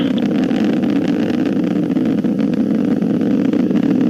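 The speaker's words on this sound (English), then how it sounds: "we're throttling up on the RD-180s" Atlas V 551 rocket's RD-180 engines thunder during launch, a loud, unbroken low roar that holds steady throughout.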